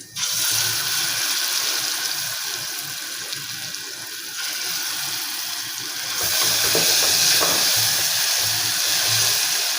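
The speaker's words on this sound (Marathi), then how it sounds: "तेल सुटेपर्यंत परतून घ्यायचं आहे." Ground masala paste with crushed garlic, salt and turmeric fries in hot oil, giving a steady, loud, dense sizzling hiss that swells a little toward the end, with no talking.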